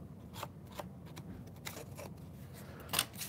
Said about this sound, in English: So my handy dandy scissors are still here.